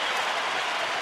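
A ballpark crowd applauds a pitcher heading to the dugout during a baseball game, a dense, steady wash of clapping with no talk.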